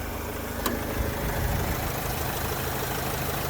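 A Renault Trafic 2010 van's 2.0 diesel engine, 115 hp, idles steadily close by, an even low rumble with a single faint click early on.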